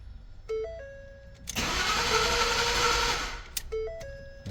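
A 2011 Ford F-150 with the 5.0 engine cranks without starting, a loud continuous starter churn lasting about two seconds, bracketed by dash chimes and warning tones before and after.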